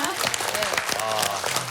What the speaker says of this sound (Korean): 다시 한번 큰 박수 보내드립니다.